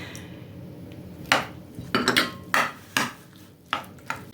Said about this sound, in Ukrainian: Тепер можна починати замішувати сирники.